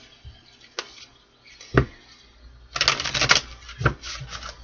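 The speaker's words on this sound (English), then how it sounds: "One more shuffle." A deck of tarot cards shuffled by hand in a few quick riffling bursts, with a louder flurry about halfway through and sharp taps in between, close with no talking.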